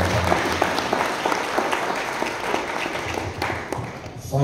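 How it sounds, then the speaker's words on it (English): Audience applause after a business talk: dense, steady clapping from a full room that holds for several seconds, loud and close, with no voices over it. "Can I have a round of applause again?"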